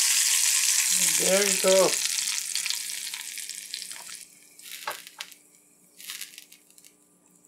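Vegetable oil heated in a pan for baigan choka gives a broad hiss of sizzling and frying that fades over several seconds, with a brief voice early on and a few soft stirring clatters near the end.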